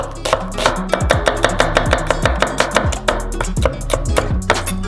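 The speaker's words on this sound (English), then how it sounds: "Make a couple of vertical incisions and then chop them as well." A knife chops halved onions with quick, steady strokes on a cutting board, the close, crisp thuds repeating in a fast, even rhythm with no voices.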